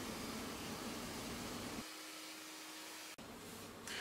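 A hair dryer blows as hair with leave-in conditioner is rough dried, a steady close whoosh that drops in pitch partway through and briefly cuts out before starting again.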